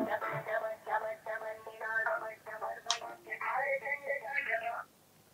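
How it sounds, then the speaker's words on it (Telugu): A phone call rings through on a telephone line, a repeating ringing tone pattern heard continuously for about five seconds before cutting off abruptly. "ఒకసారి కాల్ చేయమంటారా?"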